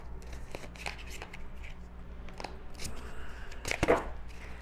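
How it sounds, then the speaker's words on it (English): Tarot cards shuffle in brief, soft riffling bursts with small taps and rustles, close and fairly quiet, with almost no talking. "shuffle 3 times"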